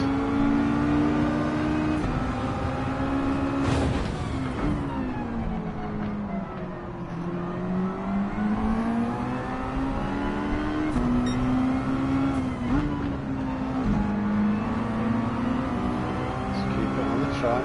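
Race car engine in Gran Turismo 7 at Tsukuba, a continuous droning engine note rising and falling through gear changes, with someone talking over it.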